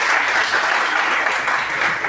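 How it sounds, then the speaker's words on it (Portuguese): A room full of people applauds a former student on a panel at a school event, a steady wash of clapping that holds even throughout. "Uma salva de palmas para o Douglas, pessoal, essa pergunta."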